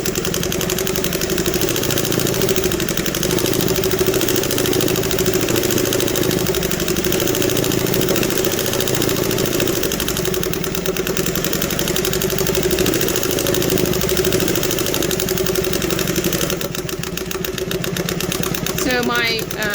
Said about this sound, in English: my servo motor is a 3/4 horsepower Conso servo motor, and I have a 45mm pulley on it